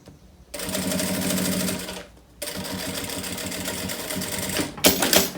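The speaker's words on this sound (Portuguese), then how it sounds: "eu vou colocar primeiro aqui essa faixinha, eu vou costurar aqui" Sewing machine stitching a fabric strip onto a beach bag: two loud, close bursts of rapid mechanical chattering with a short pause between, then a brief clacking at the end.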